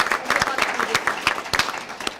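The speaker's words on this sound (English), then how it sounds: "give yourself a big round of applause" An indoor audience at a press conference for a youth employment program breaks into applause, a dense run of overlapping claps at moderate distance with no pause.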